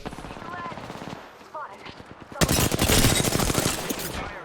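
Video game gunfire during a squad battle royale match, rapid automatic bursts that build into a dense loud volley, with a player talking underneath.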